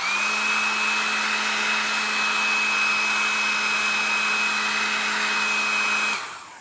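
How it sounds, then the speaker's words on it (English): A hair dryer blows steadily at close range with a constant whine and rushing air, then switches off abruptly near the end. "I'm going to hit it with the hairdryer one more time."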